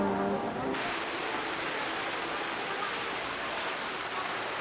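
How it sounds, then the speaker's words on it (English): An indoor waterfall in a Waikiki shopping mall pours in a loud, constant roar of falling water that fills the whole moment close by. "This is the waterfall."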